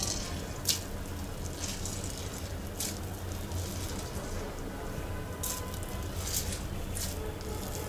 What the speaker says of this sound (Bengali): লবণ দেওয়ার পর পেঁয়াজের থেকে পানি বের হয়েছে। এই পানিটা আমরা চিপে ফেলে দেব।